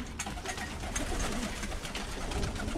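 White homing pigeons cooing inside the main loft of a pigeon keeper, soft low throaty coos repeating close by over a quiet room background, with no talking.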